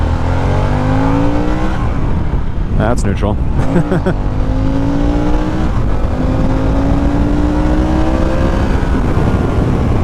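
A Harley-Davidson Sportster S engine rumbles loud and close, revving in rising and falling sweeps with a sharp blip midway, while someone talks briefly over it.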